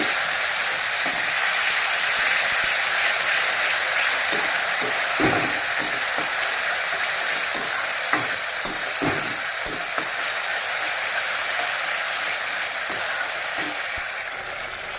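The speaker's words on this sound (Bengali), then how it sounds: "আর এখন দিয়ে দেব সর্ষে বাটা। ভালো করে সর্ষে বাটা মশলাটা কষিয়ে নেব।" Mustard paste frying in hot oil with nigella seeds, a loud, steady close-up sizzle and crackle with occasional soft stirring scrapes throughout.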